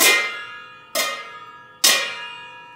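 Metal pots and pans struck one at a time, three bright ringing clangs at a steady pace, each decaying slowly, close and loud with no talk.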